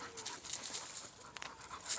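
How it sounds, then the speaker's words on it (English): A dog pants close by in quick, breathy bursts with uneven rhythm, fairly quiet, outdoors on a warm day with no talking. "Daft dog."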